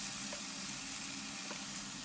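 Spinach stir-frying in a pan with a light seasoning of salt and pepper, a steady close sizzle running through the whole short stretch with a few faint clinks, no voices.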